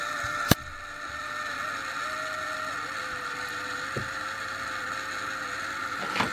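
A defective motor in a brand-new Hornby Standard class 4 model locomotive whines and buzzes steadily at close range, a rough, continuous drone with a sharp click near the start.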